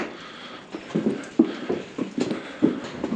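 Mares' hooves clip-clop on a hard surface as the horses are let in, an uneven run of close, moderately loud steps with no talking.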